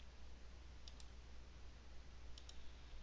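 Computer mouse clicks while confirming a dialog in a text editor: two quick pairs of sharp, faint clicks, one pair near the start and another near the end, over steady low background hum.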